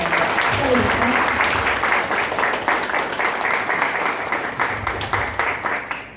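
Congratulatory applause from staff at a company New Year kickoff ceremony, loud and close with a clear rhythmic clapping pulse, gradually thinning into separate claps near the end, a voice briefly heard under it.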